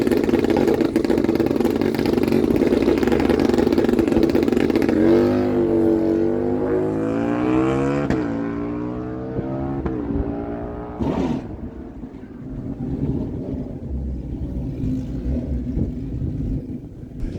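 A 2024 Kawasaki Ninja 7 Hybrid runs at a drag strip, its engine note rising through several gear changes as it pulls away into the distance over a steady crowd-and-track rumble.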